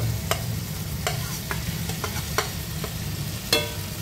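Crabs fry with sliced tomato in a pan, making a steady close sizzle. Sharp clacks and scrapes of stirring break through it every half second or so. No one speaks.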